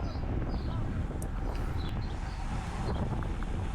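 Headwind while cycling in an amateur bike race, a constant low rumble and buffeting of wind across the microphone with faint higher whistles on top.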